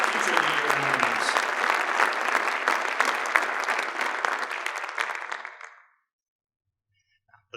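Applause at a school board association spring conference awards evening, a strong, sustained round of clapping that thins out and stops abruptly after about six seconds, followed by near silence.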